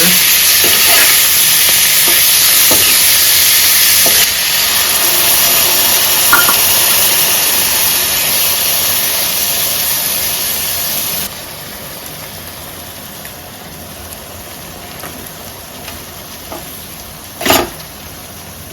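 Prawns cook in a pan with a loud, steady sizzle that softens partway through, then a sharp clank near the end.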